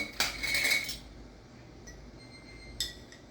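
Salt spooned into quart canning jars, a half teaspoon each, with a bright metallic scrape and clink up close at the start, then a quieter pause and one more short clink near the end.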